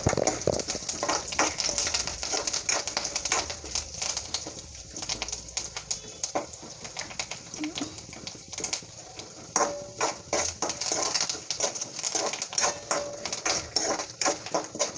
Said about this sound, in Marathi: डाळ्या आणि कढीपत्ता छान भाजून घेऊया